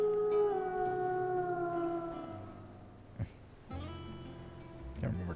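A drawn-out howl with sliding pitch rings out in Final Fantasy XVI, fading over a couple of seconds, followed by thuds and scattered game sounds.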